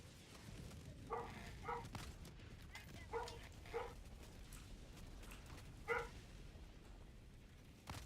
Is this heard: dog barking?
yes